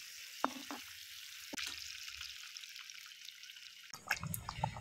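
Eggs dropped into a pan of curry gravy for Afghani-style egg curry, a soft sizzle with a few distinct splashy drips, quiet stretches, then louder bubbling and spattering near the end.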